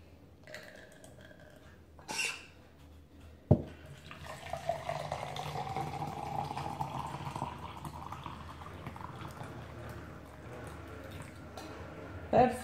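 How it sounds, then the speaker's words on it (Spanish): Hot water poured into a small jug for mate, a steady close trickle and splash lasting several seconds after a few knocks and clinks, with a sharp thud before the pour and a clatter at the end. "en nuestra jarrita vamos a colocar el agua caliente"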